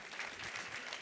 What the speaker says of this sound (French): Merci, en tout cas, on peut les applaudir.